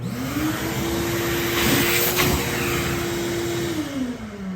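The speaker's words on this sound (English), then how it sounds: "we'll have the vacuum going the entire time" A shop vacuum roars steadily up close, sucking up metal shavings from a 1971 Porsche air-cooled magnesium engine case repair, its motor pitch rising slightly then dropping near the end, with faint rattling bits being sucked in.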